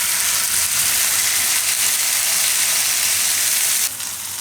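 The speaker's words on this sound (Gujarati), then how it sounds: "તો આ રીતે આપણે મિક્સ કરીને થોડીક વાર ફેરવી લેવાનું." Fenugreek leaves and sweet corn are stirred in a hot frying pan for a Gujarati methi makai curry, giving a steady, loud, continuous sizzle with a faint scraping of the spoon and no talk.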